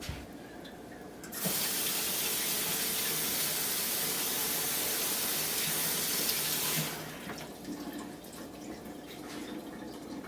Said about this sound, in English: You just run it through hot water for a while.